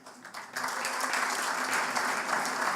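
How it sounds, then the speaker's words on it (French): An audience applauds at the centenary celebration of L'Action nationale. The clapping swells in after a brief quieter moment and holds steady and full to the end. "chacun mérite bien des applaudissements"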